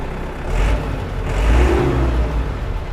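A used 54 hp Iseki tractor with a four-cylinder engine and front loader bucket starts up, its engine catching and revving with a steady mid-pitched roar and a rising surge, fairly close.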